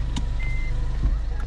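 A Kia Carnival minivan gives a steady reversing warning tone while backing up in an apartment entrance driveway at night, under a low engine hum.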